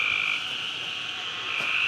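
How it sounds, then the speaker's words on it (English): Frogs croak steadily from a swamp at night, a dense, continuous chorus of high trilling calls filling the background with no one speaking. "you can hear the frogs, right? There's a swamp down here."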